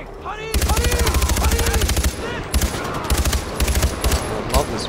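Rapid automatic weapon fire in Far Cry 4, loud and close, with sustained bursts in the opening half and then shorter volleys with brief pauses, a voice briefly heard early on.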